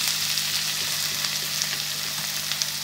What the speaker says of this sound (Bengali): এবার এই সবজিগুলো আর পেঁয়াজ এগুলো দেখুন একটু ভাজা ভাজা হয়ে গেছে